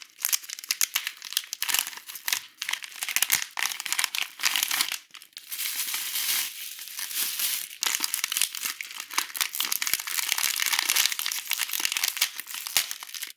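Plastic zip-top bag being handled and opened, with dense crinkling and crumpling that runs nearly continuously at close range, broken by brief quiet gaps, no talking.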